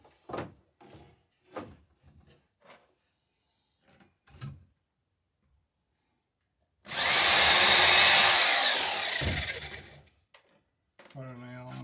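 A power drill bores into floor boards during a floor installation, one loud continuous burst of a few seconds after scattered knocks and handling sounds, with someone speaking briefly.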